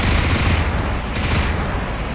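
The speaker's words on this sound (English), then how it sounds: "the shallow cannon is a amazing big gauge machine gun." Fast, heavy automatic fire from a high-RPM advanced cannon in the game From the Depths roars in a continuous stream like a big machine gun, loud and close, its rapid shots blurring into a rumbling rattle.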